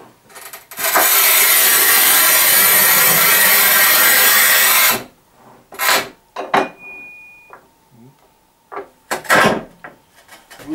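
A 1200 mm Bihui MAX E302 or Shijing 3751 tile cutter cuts textured tile with about four seconds of loud, harsh scraping close up, followed by scattered knocks, clacks and a brief ringing tone.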